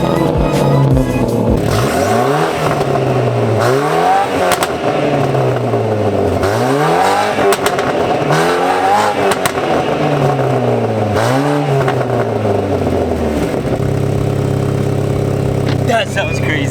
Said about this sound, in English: So the muffler, I'm gonna show you guys how it sounds